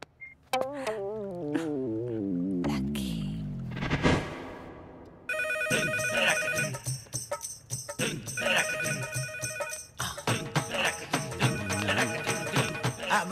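A telephone rings repeatedly in a domestic film scene, its bright electronic ringtone bursts cutting in clearly over background music and other sounds.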